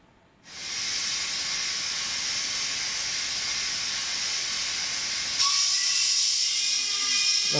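A sound-equipped DCC model steam locomotive, run from a Gaugemaster Prodigy 2 controller, gives off a long, steady, loud hiss of steam. A brighter tonal whistle joins it near the end.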